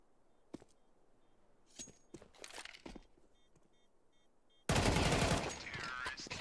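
AK rifle fire in a video game match: a few scattered sharp shots at first, then a loud, dense sustained burst of automatic fire that dominates the end.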